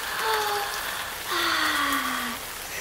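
Soft rain falls steadily, a close, even hiss of drops with two faint tonal sweeps over it and no voices.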